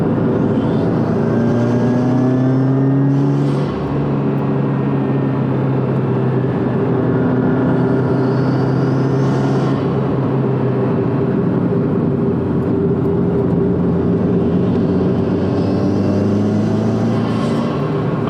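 A car fitted with FactionFab FR-Spec V2 coilovers drives fast through canyon corners, its engine droning loudly and steadily with pitch rising and falling through gear changes, heard from inside the cabin.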